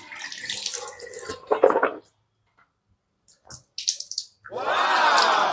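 Tap water runs and splashes into a sink in short bursts, stopping and starting, with a louder steady stream near the end, close by and without talking.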